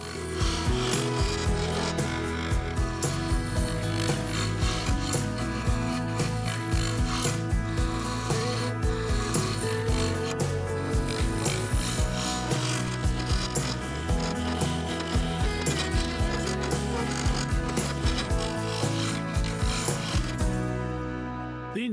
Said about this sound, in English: I used the full-size carbide to smooth things out and get closer to the finished shape